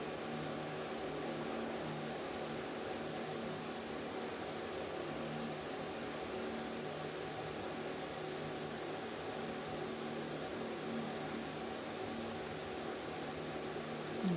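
Snacks deep-frying in hot oil produce an even, continuous hiss that stays steady and close for the whole stretch, with no voices over it.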